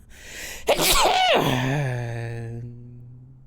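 A single loud, close sneeze bursts out and trails into a drawn, moaning exhale, heard alone with no talk over it.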